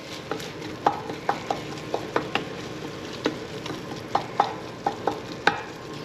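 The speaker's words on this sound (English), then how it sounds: "So now we got the garlic in here, and we're just going to continue to stir." Garlic and pancetta fry in olive oil under a low, steady sizzle while a utensil strikes and scrapes the pan about every half second in a loose, repetitive rhythm.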